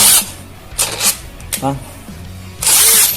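A cheap Kamolee 10mm brushless electric drill whirs in short bursts, spinning up loudly and stopping several times, close by and with brief pauses between runs.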